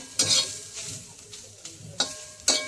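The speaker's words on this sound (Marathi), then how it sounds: "आणि चांगली भाजून घ्यायचा कांदा, टोमॅटो, लसूण" Onion, tomato and garlic roast in a pan on a gentle sizzle, broken by four quick scraping stirs of a spoon against the pan, close and clear with no talking.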